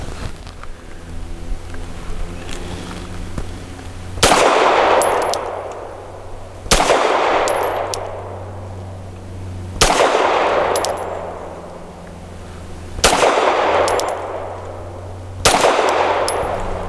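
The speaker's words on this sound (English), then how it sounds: "5 shots for accuracy from 7 yards using the Nosler ASP 115." Five loud, sharp 9mm pistol shots from a Tisas Bantam firing Nosler ASP 115 ammunition at 7 yards, spaced about two to three seconds apart, each with a ringing tail and a faint metallic ping afterward.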